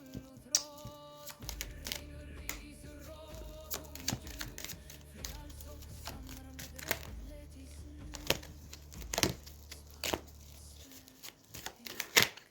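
Close, quiet riffles and snaps of tarot cards being shuffled and tapped, irregular and repeated over a low steady hum, with a stronger flurry near the end and no voice.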